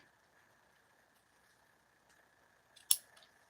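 Scissors snip through ribbon pieces for a Christmas bow, a single sharp cut standing out near the end against a faint background hum.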